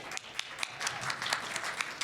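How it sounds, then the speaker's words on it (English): Quiet round of applause from a conference audience at the Monroe County Childhood Conditions Summit opening, scattered individual claps over a soft continuous patter, somewhat distant. "I think that's a call for a round of applause"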